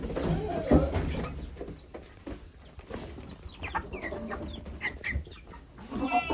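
Chickens cluck and cackle on an off-grid farm, a few close, uneven clucks and short calls scattered over quiet outdoor background, loud near the start then softer and intermittent.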